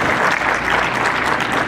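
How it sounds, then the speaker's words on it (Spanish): Loud, dense audience applause at a primary school dome handover ceremony welcoming a town president, a brief burst of many hands clapping close and steady throughout. "Fuerte el aplauso para él."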